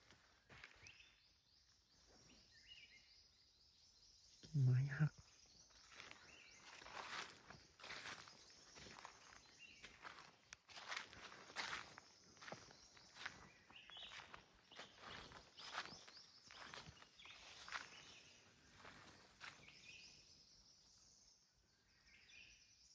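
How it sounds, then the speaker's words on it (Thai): Footsteps crunch on the ground nearby at night outside an old shrine, a long irregular run of soft scuffing steps with a sharper thump early on, amid faint insect and bird sounds. "ไอเสียงที่ผมได้ยิน เหมือนเดิน เหยียบพื้นอะไรพวกนั้นนะ"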